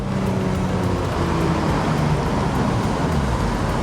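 2019 Porsche 911 Speedster engine revving to 5,000 RPM: a loud, dense, steady roar that fills the whole moment, close by and without talk.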